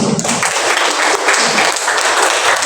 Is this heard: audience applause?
yes